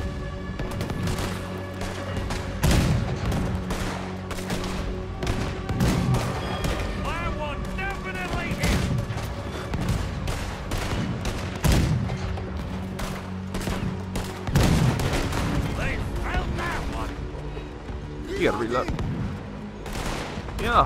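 Heavy cannon blasts boom again and again at irregular intervals in a Red Dead Redemption 2 battle against a boat, with voices talking between the shots.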